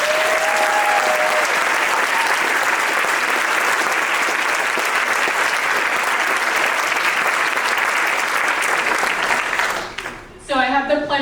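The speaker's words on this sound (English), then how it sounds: "Let's give them another round of applause." Audience at a third and fourth grade spring school concert applauding, a dense sustained burst of many hands clapping that fades near the end, with a brief voice and sound after it dies down.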